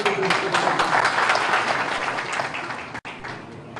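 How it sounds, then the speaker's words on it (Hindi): A seated audience at a political event claps loudly on cue, a thick continuous burst of applause that dips briefly near the end before carrying on. "हाँ एक बार जोरदार ताली बजा देंगे।"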